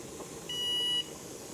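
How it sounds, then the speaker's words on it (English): A kitchen timer set for ten minutes during pressure canning of Swiss chard in a Presto canner gives one steady, clear electronic beep lasting about half a second over quiet room noise. "we're gonna set our timer for 10 minutes"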